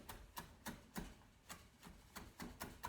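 Knife chopping fresh parsley on a cutting board for Italian meatballs, about nine to ten sharp, evenly spaced thuds close up, with no voices.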